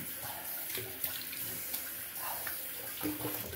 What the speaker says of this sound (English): So just gonna rinse quickly with cold water.